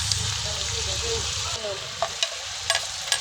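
Chicken stir-frying for pancit in a hot pan, a steady loud sizzle with occasional scraping stirs and clacks of a utensil near the end.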